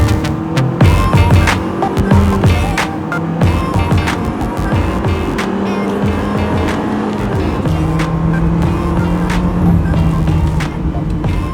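Honda HR-V Prestige 1.8 engine pulling hard during a test drive, a steady loud engine drone with rising and falling pitch through gear changes, plus road and tire noise, and no talking.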